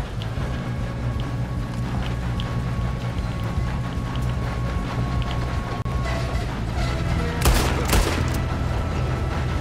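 Gunfire rattles through a tense shootout in Red Dead Redemption 2, with a steady bed of mechanical and engine-like noise and a louder burst of shots near the end.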